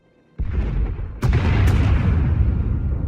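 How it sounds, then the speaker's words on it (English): Deep bombing explosions boom in quick succession in the video game Star Wars: The Old Republic on Ord Mantell, a heavy blast followed by another that rolls into a sustained rumble, loud and close. "Sounds like the bombing's getting closer."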